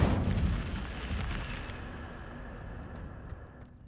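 An Incendio fire spell cast in a Harry Potter video game: a fiery whooshing burst at the start that fades gradually into a soft crackling hiss over a few seconds.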